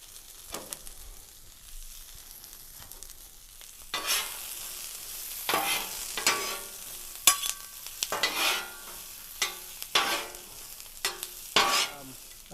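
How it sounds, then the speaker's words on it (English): Jalapenos and pulled pork sizzle on a 36-inch Blackstone griddle, a steady fry broken by loud scraping and stirring bursts from a spatula, close and without talk. "Then we'll go ahead and get the pork on there and get it warmed up."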